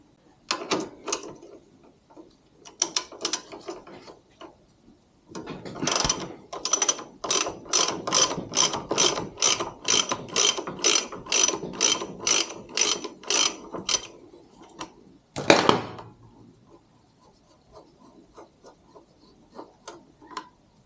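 A ratchet turns on the axle nut of a Harley Davidson MT350 motorcycle, giving quick clicking strokes in short groups, then a long steady run of evenly spaced clicks and a final sharp burst, all close up.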